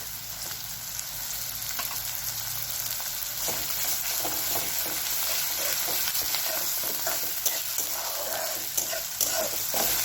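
Ginger garlic coriander paste fries in hot oil with chopped tomato for a spicy potato curry, a continuous loud sizzle with scattered crackles and stirring scrapes.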